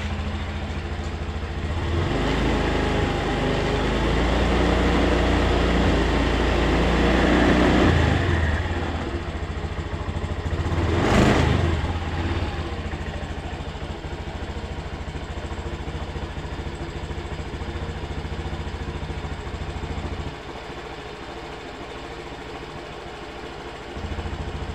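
A Honda Scoopy motorcycle with a weak, run-down battery idles steadily after starting, a close continuous engine drone with slight clatter, holding an even level throughout.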